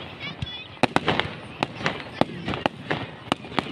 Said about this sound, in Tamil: இந்த பெரிய பட்டாசு வெடிச்சா